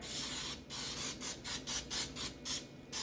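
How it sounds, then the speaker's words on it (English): Short hissing bursts of Baker's Joy baking spray onto the bottom of a cake pan, about eight quick pulses in a row, close and fairly loud. "all you have to do is spray the bottom"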